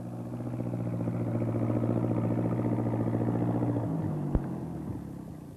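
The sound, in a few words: tractor driving through floods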